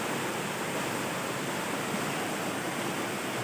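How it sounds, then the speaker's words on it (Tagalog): Water at the upper portion of EPOL Falls roars in a dense, unbroken hiss, loud and steady throughout with no voices over it. "So, ito na yung upper portion ng falls. Napakaganda."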